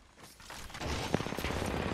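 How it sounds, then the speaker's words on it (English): Gunfire in Fortnite rises from a quiet start into a dense rattling burst of shots, fairly close and continuing to the end. "Getting shot at."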